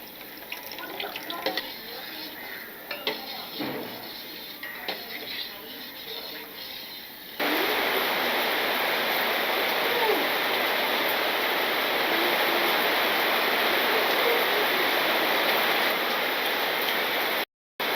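Sago payasam boiling in a pot after the second coconut milk is added: a steady, loud bubbling hiss that starts abruptly partway through and continues without pause, preceded by quieter clattering kitchen sounds.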